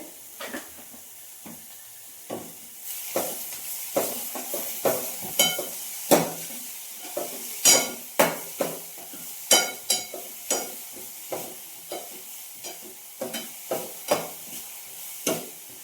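Shredded cabbage with salt cooks in a pan under a soft, continuous sizzle, punctuated by a steady rhythm of sharp spatula scrapes and taps against the metal.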